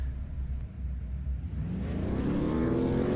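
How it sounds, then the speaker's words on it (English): The engine of a V8 Supercar idles on the starting grid at Oran Park with a steady low rumble. The revs then climb into a rising, building drone. "The revs are rising."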